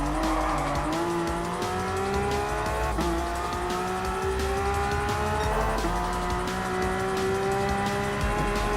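Porsche race car in Gran Turismo Sport, Porsche Cup at Dragon Trail Seaside: a loud, continuous engine whine rising and dropping through gear changes, with tire squeal under braking and no talking.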